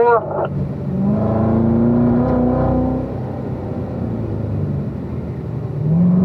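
A race car engine rumbles on a track while downshifting to third gear into turn 4, a loud, close, steady drone with shifting pitch that settles into a lower hum.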